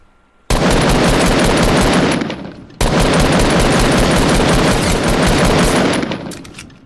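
Two long, loud bursts of rapid automatic gunfire in Fortnite Battle Royale, close and continuous, the first lasting about two seconds and the second about four, split by a short pause.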